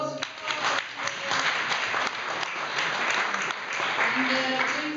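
An audience at a blockchain meetup claps as a session breaks, a moderate burst of applause that holds steady for several seconds with people talking over and around it.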